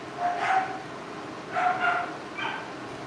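A pet dog in a home kitchen gives three short whining barks with whimpering tones, spaced about a second apart, fairly close over faint background noise.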